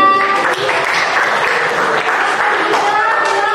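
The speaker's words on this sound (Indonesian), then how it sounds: "Silakan tepuk tangan" Classroom of students applauds after a presentation on bullying, a dense burst of steady clapping lasting a few seconds with some voices mixed in.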